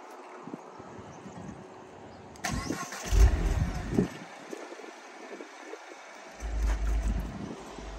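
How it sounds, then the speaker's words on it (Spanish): A stock-exhaust Peugeot 208 GTI petrol hatchback with 200 horsepower cranks and fires up after a quiet start, then settles into a close, steady idle with a couple of short revs. "A ver cómo suena el arranque."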